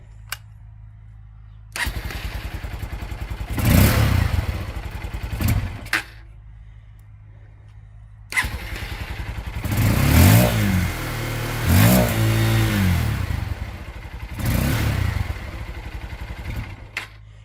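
A 2023 Honda XR 150L motorcycle fitted with a CRF carburetor starts up after a quiet moment, then idles and is revved in repeated blips that rise and fall, close and fairly loud, with brief pauses between bursts.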